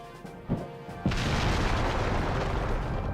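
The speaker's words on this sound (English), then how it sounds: "How can those two watch an explosion go off right in their faces?" An explosion in the video game Tales of the Abyss: a small pop, then a loud close blast that settles into a sustained roaring rumble to the end.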